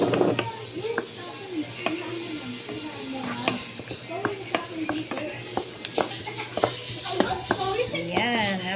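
Garlic and onion sizzle in a pan as a spoon stirs with repeated scraping clinks, while people talk over the cooking throughout.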